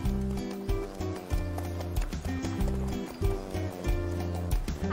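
Ridden horse walking at a steady pace, its hooves clip-clopping in an even rhythm with soft thuds over a sustained musical score, fairly close and moderately quiet.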